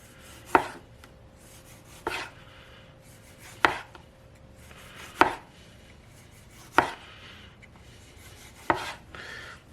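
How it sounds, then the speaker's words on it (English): Knife slices small Campari tomatoes thin on a cutting board: six evenly spaced, crisp chops about every one and a half seconds, close and clear over quiet background, no talking. "And I cut the ends off. And then I slice them thin."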